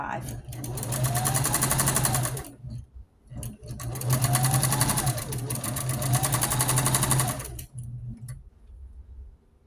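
Sewing machine running loud and steady while stitching over the thick seams of a pink rag quilt, with two long sustained runs separated by a brief pause and a quieter stop near the end.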